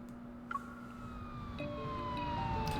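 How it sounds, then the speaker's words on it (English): An ambulance siren from the game Love and Deepspace, heard through a window on a snowy scene, sounds as a steady rising tone over low hum that grows gradually louder as it approaches. "The sharp wail of an ambulance siren blares through the window and snow."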